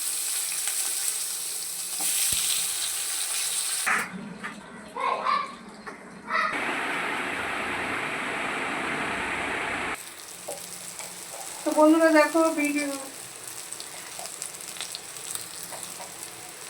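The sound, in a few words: frying sliced brinjal in oil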